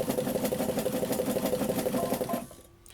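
A sewing machine stitches tree strap material with a fast, steady mechanical whirring and rapid even needle clatter, close by, slowing and stopping near the end.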